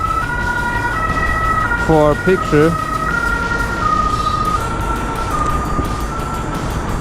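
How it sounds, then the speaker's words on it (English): A police car siren wails steadily on a Munich city street as it passes, with traffic rumbling around it and someone talking nearby. "Oh, there's a police car coming."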